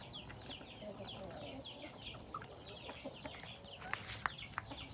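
Rhode Island chickens cluck repeatedly while pecking at cassava leaves outdoors. The overlapping clucks are soft to moderate, with a few sharper calls near the end over a low background murmur.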